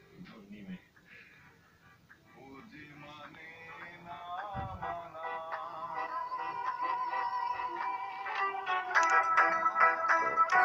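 A song plays through the small speaker of a 4G VoLTE keypad mobile phone, tinny melodic music building gradually louder and fuller over several seconds, heard alone at close range.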